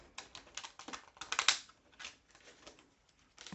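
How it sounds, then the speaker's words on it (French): Large tarot cards shuffled by hand, close up, with quick uneven slaps and papery flicks clustered in short bursts, the loudest hit near the middle. "ces cartes-là, elles sont un peu grandes, donc on va les mélanger comme ça"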